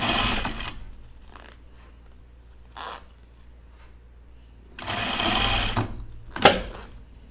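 A sewing machine stitching a neck seam on a knit sweatshirt runs in short bursts, with quiet pauses between stitching runs and a louder stretch near the end.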